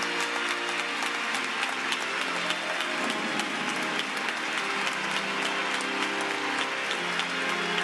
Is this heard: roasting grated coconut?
no